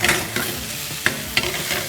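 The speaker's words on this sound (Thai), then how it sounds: "ผมจะลงกระเทียม กับพริก ลงไปเลย นะครับแล้วก็ตามด้วย หมึกนะที่เราหั่นเตรียมมาไว้" Garlic, chili and sliced squid fry in a hot pan for a squid-ink spaghetti, giving a steady close sizzle broken by a few sharp scrapes and clinks of stirring. No one speaks.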